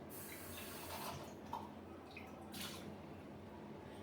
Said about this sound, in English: We're going to take a clean glass or clean the previous glass with water.